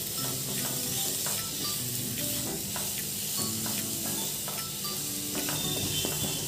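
A spatula stirs and sautés a mixture with pav bhaji masala and salt in a pan, giving a loud continuous sizzle with scraping strokes close by.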